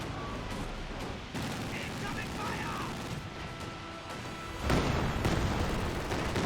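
Quad half-track anti-aircraft guns fire in a Company of Heroes 2 battle, with dense rattling bursts and booms that grow louder toward the end, mixed under constant battlefield noise while a commentator talks over it.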